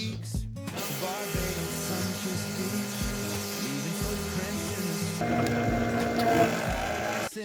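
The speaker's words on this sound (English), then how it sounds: "it's just running that little oil change pump right off of my cordless tool battery" A small oil change pump powered by a cordless tool battery hums and rattles steadily as it draws oil during a sailboat transmission teardown. The pitch shifts partway through as the pump keeps running close by.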